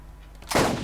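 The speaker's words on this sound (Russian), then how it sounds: "Выстрела пистолета, надеюсь, хватит." A single pistol shot in the video game Borderlands: a loud, sudden blast halfway through that follows a quieter lead-in and rings out briefly.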